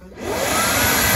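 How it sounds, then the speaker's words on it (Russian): A wet vacuum cleaner starts its self-cleaning cycle with a little water inside, its motor whirring up within a fraction of a second into a loud, steady, close roar. "Теперь мы берем и включаем на то, чтобы пылесос сам себя почистил."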